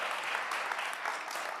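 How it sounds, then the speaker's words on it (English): An audience keeps clapping for chef José Andrés at a lecture hall event, a short burst of even, dense applause from many hands. "Stop clapping."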